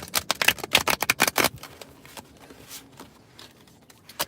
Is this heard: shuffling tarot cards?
yes